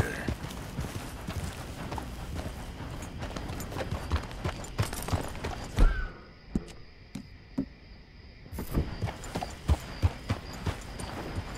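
A horse gallops through hedges in the video game Red Dead Redemption 2, its hooves pounding steadily and fairly close. The rhythm thins to scattered single hoofbeats in the middle stretch before the gallop resumes.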